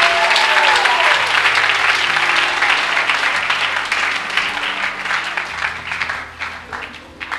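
Loud, sustained clapping from a church congregation, with a brief rising tone early on and low background tones underneath, easing toward the end.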